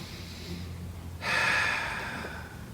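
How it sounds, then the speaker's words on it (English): A single deep, forceful breath drawn sharply through the nose and mouth during a yoga headstand, close and breathy, following a quiet moment. "breathe in."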